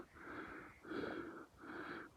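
A hiker breathes hard and wheezing on a steep climb toward Baldy Cabin Peak in New Mexico's Latir Peak Wilderness, three rasping gasps in steady rhythm, close and fairly loud, with no talking.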